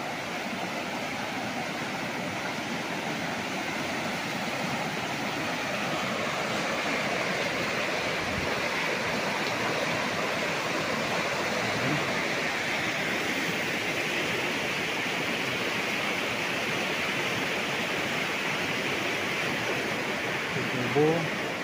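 A river in Cavinti, Laguna flows past a riverside resort cottage, giving a steady, broad rushing of water that holds even and close throughout with no break.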